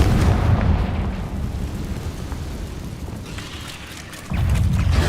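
A fiery Confringo spell explosion in Hogwarts Legacy, a loud booming burst with rumbling decay that fades over a few seconds before another heavy blast kicks in at the end.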